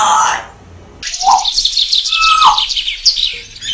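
An African grey parrot gives a burst of sharp, whistled calls and chirps, loud and close, with a short rising whistle and a longer sliding call over a busy chatter of higher tweets.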